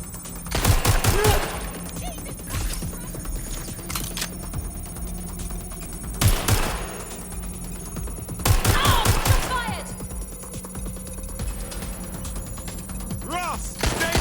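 Gunfire in the video game Watch Dogs: Legion, heard as three loud bursts of rapid shots spread over the stretch, with a steady background hum and scattered quieter noises between them.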